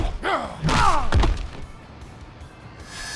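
A heavy thudding slam impact from a blocked chokeslam in the WWE Immortals mobile wrestling game, a couple of loud close thumps with whooshing effects in the first second and a half, then quiet.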